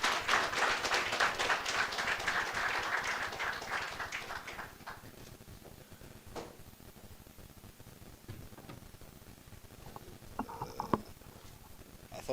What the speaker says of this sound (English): I would like everybody to clap your hands together in honor of Minister Malatsi